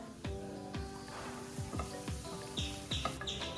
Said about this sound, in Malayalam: പിന്നെ അതിലേക്ക് ഇഞ്ചി വെളുത്തുള്ളി ചതച്ചതും കൂടി ചേർത്തിട്ട് അതും നല്ലോണം ഒന്ന് വഴറ്റി കൊടുക്കുക.